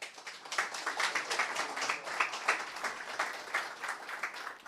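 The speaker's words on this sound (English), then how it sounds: "if we could give them a round of applause," Audience applause at a tech summit, a moderately loud, even stretch of many hands clapping that continues steadily without speech.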